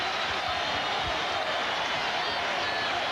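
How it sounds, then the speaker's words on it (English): Arena crowd at a 1999 NBA Finals game between the New York Knicks and San Antonio Spurs roars in a dense, sustained wall of cheering, loud and steady throughout with no pauses. "listen to the New York crowd cheer their team"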